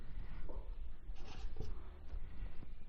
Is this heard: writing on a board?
yes